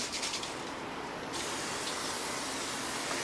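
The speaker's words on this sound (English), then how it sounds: "start by Spraying a little bit of oil here onto the pan." Oil sprayed from a can onto a pan for Vietnamese shaken beef, heard as a steady loud hiss at close range with no break, and no voices.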